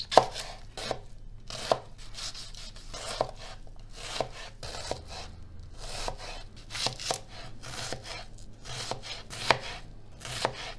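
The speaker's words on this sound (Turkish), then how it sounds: "6 tane orta boy kuru soğanı yemeklik doğrayacağım." A knife chops six medium dry onions on a board, a steady run of fairly quiet, close cutting knocks with occasional sharper taps, no voices over it.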